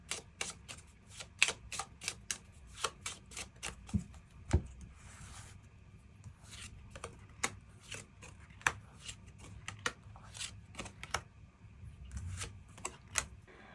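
Tarot cards are shuffled and drawn, heard as a run of sharp, close, irregular card snaps and riffles with quiet pauses between them and no talk.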